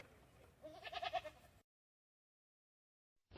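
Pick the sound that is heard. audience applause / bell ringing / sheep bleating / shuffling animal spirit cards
sheep bleating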